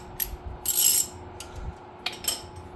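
A torque wrench set to 100 ft-lb tightens an aftermarket sway bar end link bolt on a Dodge Challenger 6.4L, giving a few short ratcheting clicks and a brief louder rasp, close and quiet.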